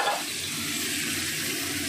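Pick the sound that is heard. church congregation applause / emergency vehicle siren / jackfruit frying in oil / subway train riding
jackfruit frying in oil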